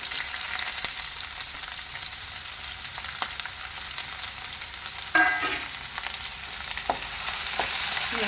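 Ginger, green chilies and curry leaves fry and get stirred in a pan for a fish curry, giving a steady sizzling hiss punctuated by a few sharper scrapes and clatters from the stirring, with no talking.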